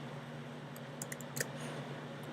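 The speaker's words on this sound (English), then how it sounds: "I'm clicking Control T again just to size it down." Keys click on a computer keyboard as a Control T shortcut is pressed, a few faint, quick taps over a steady low hum.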